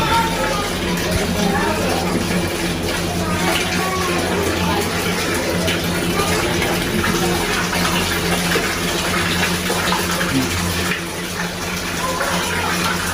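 Tap water runs steadily into a tub or basin for a newborn baby boy's first bath at home, a continuous gushing wash with voices talking nearby.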